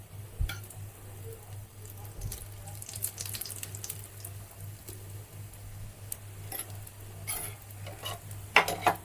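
Brinjal slices frying in oil on a tawa make a continuous close sizzle with a low steady hum underneath, punctuated by scattered clicks and scraping knocks, and no one speaks.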